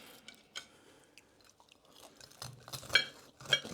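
Someone close by chews and bites into the crunchy bread crust of a ploughman's sandwich with piccalilli, soft crackling crunches coming irregularly and growing louder toward the end.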